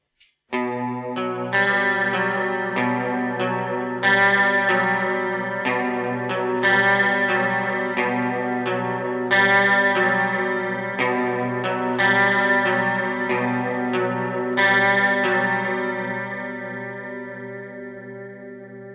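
Electric guitar picks out a repeating post-punk chord pattern, the notes ringing together with echo and shimmer in a steady rhythm, played alone.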